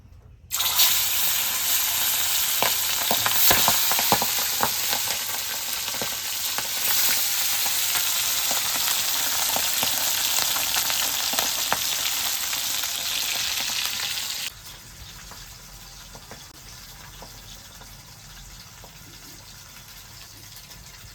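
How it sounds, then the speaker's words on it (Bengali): Pabda fish fry in hot oil over a village clay stove, a loud, steady, close sizzle that runs for about fourteen seconds and then drops to a quieter hiss. "তেল গরম হয়ে গেছে, মাছগুলোকে দিয়ে দিচ্ছি।"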